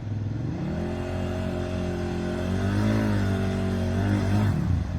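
A heavy KTM 950 SE V-twin adventure motorcycle engine revs steadily up close, its deep throbbing note rising and easing back through several swells before cutting off near the end, with no voices over it.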